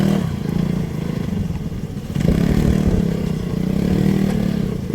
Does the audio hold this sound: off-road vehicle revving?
yes